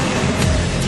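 Jaguar XE sports sedan with a high-performance engine and lightweight aluminium body, heard as a short, dense burst of broadband engine roar, loud and steady, with no talk.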